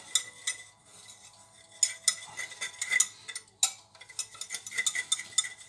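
A whisk scrapes and clinks against a bowl as thick souffle pancake batter is beaten, with irregular rhythmic taps and light metallic ticks close by, no talk.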